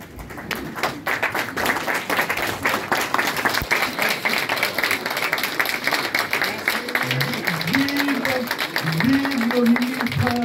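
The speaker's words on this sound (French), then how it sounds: "de l'acclamer, de l'applaudir et de lui dire merci." An audience at a Guinean community gathering in Dortmund applauds a government minister with sustained, loud, steady clapping throughout, while a voice chants over it near the end.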